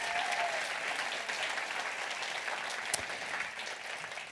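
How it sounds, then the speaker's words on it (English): Steady audience applause fills a live fashion show, even and continuous clapping heard from a moderate distance, with no talking over it. "So let's give her a nice big round of applause."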